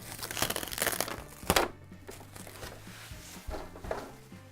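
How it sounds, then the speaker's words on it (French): Plastic packaging crinkling and rustling as a new sewing machine and overlocker are unpacked, a steady close crumpling with one louder tearing burst partway through, no speech. "Et ma surjeteuse, donc je vais les déballer, je vais les tester quand même"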